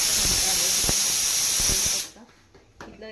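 A pressure cooker steaming idli lets out a loud, steady steam hiss for about two seconds, then cuts off abruptly, leaving faint clinks and low background sounds.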